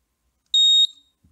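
A Xiaomi Honeywell connected smoke detector sounds its test alarm as a single loud, piercing electronic beep, steady and close, lasting about a third of a second in an otherwise quiet room.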